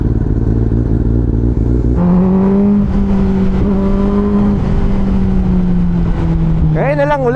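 A superbike engine warming up early in the morning, a loud steady idle with a low throbbing hum that steps up slightly in pitch and holds, then a short blip of revs at the end.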